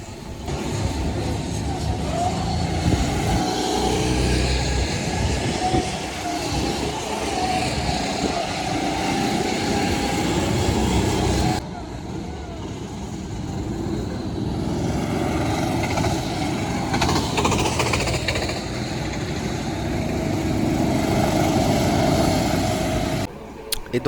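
Racing kart engines on a wet track in the rain during an EKC final, a continuous loud buzzing drone that fills the whole stretch, dipping briefly midway before building again.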